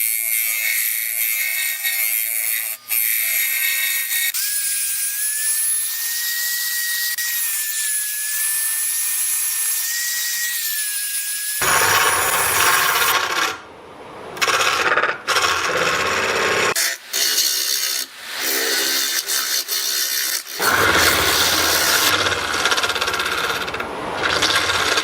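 Wood lathe turning a resin and buttered-popcorn blank, a steady whining rasp with a thin tonal hum, then a louder, rougher grinding broken by short pauses as the tool bites and lifts.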